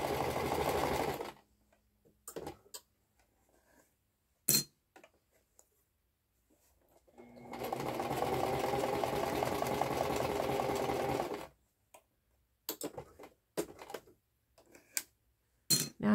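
A sewing machine stitches a Christmas purse in two runs of rapid, rhythmic whirring, each a few seconds long, separated by quiet pauses and scattered clicks from handling the fabric and machine.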